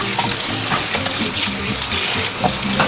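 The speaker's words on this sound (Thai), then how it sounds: "นี่ครับเราล้างมือนะครับ ล้างมือก่อนเลยอันดับแรก" Water runs steadily from a tap as hands are washed, a loud and continuous splashing rush with no break and no talking, while chicken is being prepared for frying in a home kitchen.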